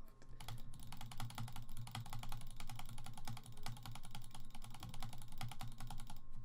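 A computer mouse is butterfly-clicked in a rapid, even stream of sharp plastic clicks, close and steady for several seconds, with only a couple of brief pauses.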